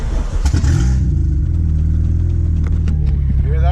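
Turbocharged Acura RSX pulling hard on a test drive, its engine a loud, steady mid-pitched drone with a deep rumble that holds throughout, rising slightly toward the end, heard from inside the car.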